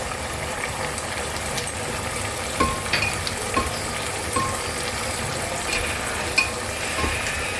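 Steady frying sizzle of mutton korma in a pan as saffron soaked in hot water is added, with a few soft clinks and spoon taps over the continuous hiss; no talking.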